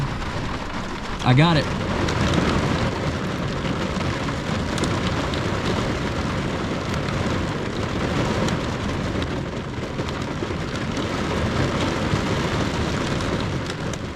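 Heavy rain pours steadily at a campsite during a thunderstorm, a dense, loud wash that continues throughout, with a brief spoken remark near the start.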